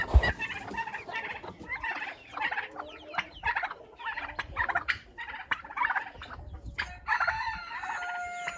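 Chickens cluck and chatter close by while a rooster crows now and then, a busy, continuous farmyard chorus.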